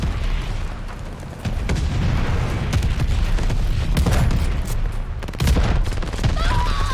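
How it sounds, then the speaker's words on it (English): Glide bomb explosions in Call of Duty Vanguard multiplayer, a loud continuous barrage of booms and bursts with heavy low rumble and sharp cracks layered over one another. "Friendly sending a glide bomb."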